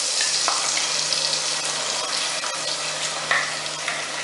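Paste added to two tablespoons of hot olive oil in a pan for an Indian potato pasanda gravy, hissing and sizzling steadily up close with occasional stirring clinks.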